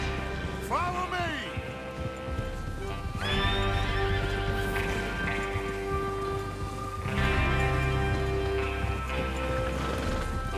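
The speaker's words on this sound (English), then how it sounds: "Get your horses ready." Horses whinny and hooves clip-clop in Red Dead Redemption 2, with two loud neighs rising over steady hoofbeats and a faint rain-like hiss, while a voice talks intermittently.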